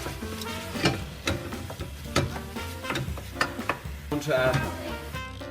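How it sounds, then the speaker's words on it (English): Pasta sauce being stirred in a pan with pepper mixed in, giving repeated scraping strokes in a steady rhythm over a faint sizzle, close and moderately quiet, with no talking. "Stir that around."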